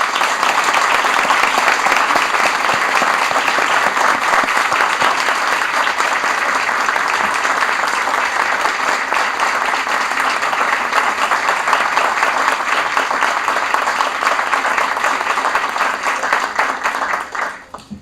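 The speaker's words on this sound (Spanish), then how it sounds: "Vamos a darle un aplauso." Long sustained applause from an assembled audience honoring brave journalists, dense clapping that holds strong and even for many seconds before tapering off sharply at the end.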